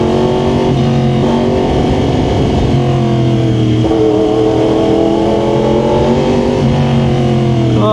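Yamaha R1 sport motorcycle with an aftermarket exhaust, its engine droning and rising in revs through city riding, with deep bass-heavy harmonics and loud, steady pressure throughout, no talk over it.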